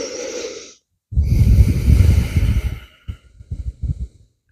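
Slow, deep breaths during a restorative yoga flow: a soft exhale, a pause, then a long airy breath close to the mic, followed by shorter broken breaths, with no talking.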